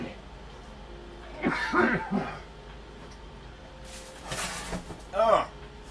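Several harsh coughs in two bursts, a cluster early on and another near the end, fairly close with a quiet room between.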